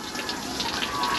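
Hot water runs in a steady gushing splash from a tap aboard a sailboat, close and continuous with no voices.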